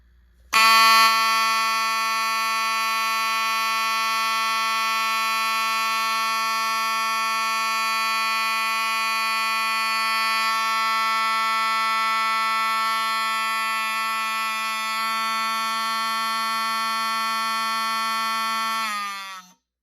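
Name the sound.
vintage 24-volt fire alarm from 1978 sounding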